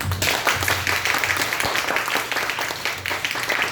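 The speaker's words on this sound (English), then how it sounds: "I would like to invite everybody to give yourself a round of applause again" An audience at a Toastmasters club meeting gives a round of applause, many hands clapping in a full, steady stretch for several seconds with hardly any voices.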